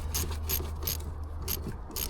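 An all-metal ratchet works on the battery terminal of a 2016 Ford Transit Connect van, giving a rhythmic series of quick clicking strokes, close up over a low steady hum, with no speech.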